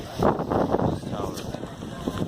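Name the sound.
wind blowing on a rainy day in Skagway, Alaska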